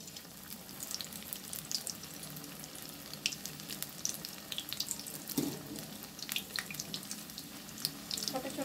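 Methi pakode batter dropped into hot oil, a faint continuous bubbling sizzle with scattered crackles and pops, quiet and steady, no voices.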